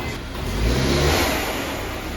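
Subaru Ascent with a 2.4L turbo engine and blow-off valve adapter, a steady mid-pitched engine hum swelling slightly as it pulls, heard from inside the car with a brief rushing hiss on top.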